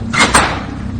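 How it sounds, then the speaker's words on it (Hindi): A heavy iron door latch gives two quick metallic clanks in close succession, then a short fading rattle, as a loud, close horror sound effect. "फिर अचानक दरवाजे की भारी लोहे की कुंडी खुली।"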